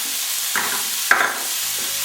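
Minced garlic and ginger hit hot oil in a frying pan, a steady bright sizzle with a couple of sharp scraping stirs from a utensil, close and alone.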